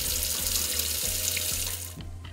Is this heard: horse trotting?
no